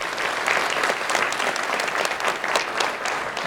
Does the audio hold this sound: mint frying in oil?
no